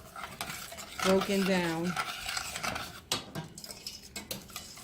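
A spoon stirs homemade DC mumbo sauce with tomato paste in a pot, giving scraping, rubbing strokes against the metal with a soft sizzle of simmering, under a brief voice and a sung or hummed tone.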